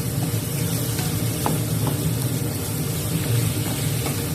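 Macaroni stir-fried with shrimp and egg in a pan sizzles steadily, with a few soft utensil scrapes as the mixture is stirred; close and continuous, with no talk.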